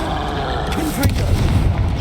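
A Confringo fire spell blasts in Hogwarts Legacy, a boomy low explosion thumping in around the midpoint and rumbling on loudly through the rest of the short burst, with game music and effects beneath.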